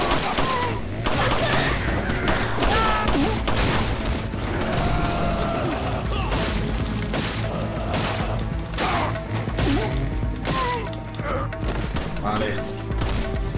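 Rapid pistol gunfire from Resident Evil 4 gameplay, dense overlapping shots with game effects and music running continuously, loud and close throughout, with a voice talking over it.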